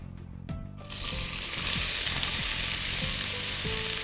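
Chopped onion dropped into hot green Australian olive oil, starting with a few stirring clatters and then breaking into a loud, steady sizzle with scraping of a utensil in the pan.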